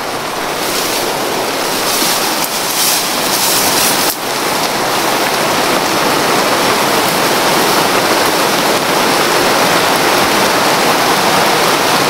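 Downpour of heavy rain, a loud, unbroken roar of water close to the microphone, steady throughout with one small dip midway and no voices.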